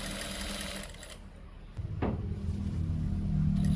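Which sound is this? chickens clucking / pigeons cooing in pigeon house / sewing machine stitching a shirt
sewing machine stitching a shirt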